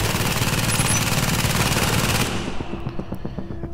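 Automated turret in a video game firing sustained rapid bursts, a dense loud rattle of gunfire that cuts off partway and gives way to fainter scattered game sounds.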